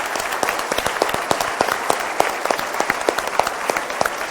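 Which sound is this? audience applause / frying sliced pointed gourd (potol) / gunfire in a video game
audience applause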